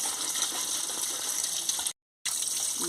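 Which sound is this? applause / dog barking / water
water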